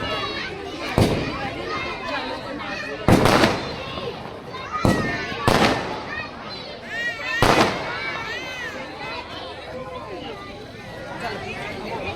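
Firecrackers burst at a Dussehra celebration outside a residential building, several sharp loud bangs spaced a second or two apart amid crowd chatter and voices talking nearby.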